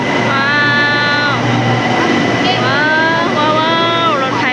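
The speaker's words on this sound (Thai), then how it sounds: "ว้าวรถไฟมาแล้ว" A train pulls into a station in Thailand, its steady rumble and screeching, sliding tones running loud throughout, with people's voices and excitement mixed in.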